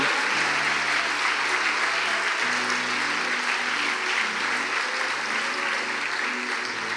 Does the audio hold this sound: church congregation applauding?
yes